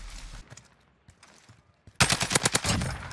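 SCAR rifle gunfire in Modern Warfare, a few scattered shots early on, then a loud rapid burst of about eight close, sharp reports in quick succession.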